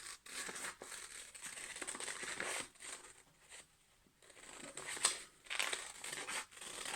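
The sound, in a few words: scissors cutting paper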